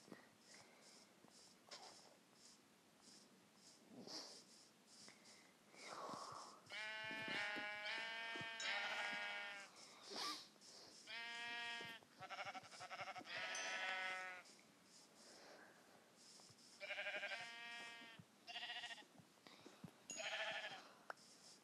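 Sheep in the Minecraft video game bleat repeatedly in loud, wavering bursts. The calls come in several clusters with short gaps between them, and there is no talking.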